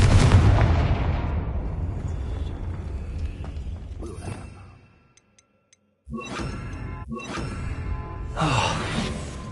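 A Confringo spell blasts in Hogwarts Legacy with a loud booming explosion that rumbles and fades over several seconds. After a short silence, sharp crackling impacts and further bursts follow.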